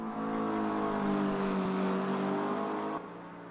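A McLaren GT3 race car engine in a racing video game holds a steady, loud droning roar with strong harmonic tones. Near the end it drops off sharply and fades to a quieter hum, with no speech.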